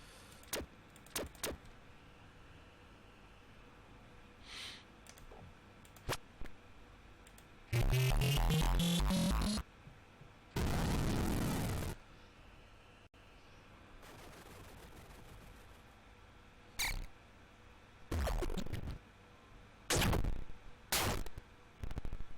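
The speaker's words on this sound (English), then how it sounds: "this sounds more like firing off a laser ability" Laser ability firing in the space game Starsss: several loud, broadband bursts of a second or two each, separated by quieter stretches with short clicks and ticks.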